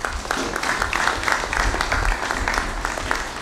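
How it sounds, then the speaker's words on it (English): A congress session audience gives a round of applause, a brisk, lively burst of many hands clapping at close range, fairly loud and sustained for a few seconds. "May I ask that we give them a round of applause?"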